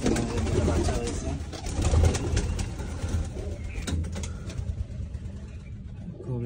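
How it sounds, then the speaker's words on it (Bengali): Pigeons coo and murmur inside a pigeon loft housing nesting birds with fresh chicks, a dense, steady flock sound close by, with a faint engine hum in the background. "অনেক দিন পর কবুতরের লফটে আসলাম।"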